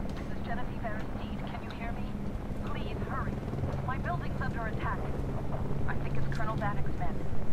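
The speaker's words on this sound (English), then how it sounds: "I'm getting shot by a helicopter." An attacking helicopter fires on the player in the shooter game F.E.A.R. 2. A low, continuous rotor rumble runs under the whole stretch, with a voice talking over it.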